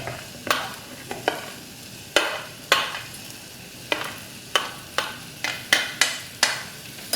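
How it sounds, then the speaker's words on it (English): Curry leaves, green chilies and coriander stalks are stirred in a hot pan, a spoon scraping in about a dozen quick, sharp strokes over a soft, low sizzle. "So we'll just give this a stir very quickly."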